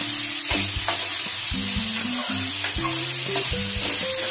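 Onions with salt frying in a pan, a constant hissing sizzle broken by repeated scraping knocks of a spoon as they are mixed, close and fairly loud.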